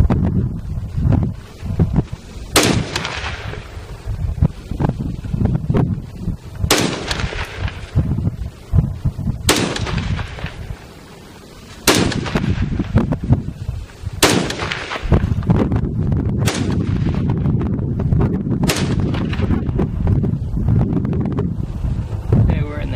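Sharp rifle shots from an AR-15 built on a New Frontier lower, fired outdoors in an uneven string of about eight reports spaced a few seconds apart over steady wind buffeting and a voice talking.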